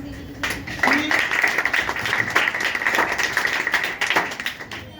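An audience at a digital marketing course session claps together, a dense patter of hands with a few sharper individual claps, steady for several seconds with faint voices under it.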